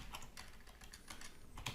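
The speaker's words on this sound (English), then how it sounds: "New keyboard today, by the way." Someone types on a new computer keyboard at a desk, a quick irregular run of light key clicks with brief pauses between bursts, close and fairly quiet.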